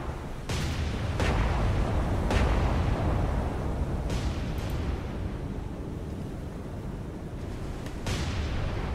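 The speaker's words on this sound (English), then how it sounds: "Looks like those frontal guns are targeting the other ship" Naval guns in War on the Sea thunder at an enemy ship, several heavy booming salvos spaced a second or more apart over a constant low rumble of sea and engines.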